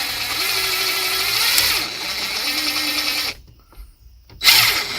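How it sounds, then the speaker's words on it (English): A loud, close power drill bores into the ignition lock of a 2005 Honda Accord, whining steadily, cutting out briefly, then revving up again. "drill and pull backwards"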